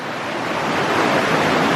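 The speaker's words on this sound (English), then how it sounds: "And there's the water flowing down below." Water rushes steadily below Warwick Castle near a water turbine, a loud continuous broadband roar that swells slightly toward the end, with no voices.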